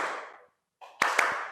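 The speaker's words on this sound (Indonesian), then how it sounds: "Tepuk tangan yang kedua." Classroom hand clapping led by a teacher in a second pattern, a short burst of claps, a pause, then three sharp distinct claps close by at moderate volume.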